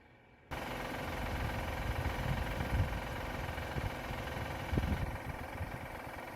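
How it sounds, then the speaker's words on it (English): A car engine runs continuously up close with a rough, rapid rattling in the engine, steady and loud throughout after a sudden start, with no talking. "definitely something rattling in there. I would say that's definitely engine related, for sure"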